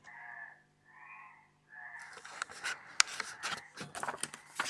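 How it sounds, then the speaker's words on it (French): Frogs croaking outdoors in Thuriès, France: a few soft drawn-out calls at first, then a denser, scratchy chorus of croaks, fairly quiet and heard without talk. "avec le bruit des grenouilles"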